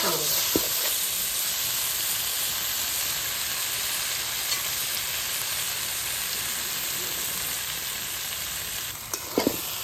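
Masala for a giant freshwater prawn curry fries in oil until the oil separates, giving a dense, even sizzle throughout, close and loud, with a couple of light clinks of utensils near the end.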